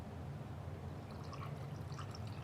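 Planter's Punch is poured over ice into glasses, each filled about halfway, giving a steady, soft liquid splash with faint clinks of ice, close by and uninterrupted by voices.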